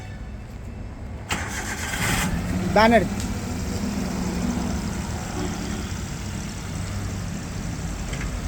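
A used car's engine cranks and catches, briefly revs, then settles into a steady idle nearby, with someone speaking over it.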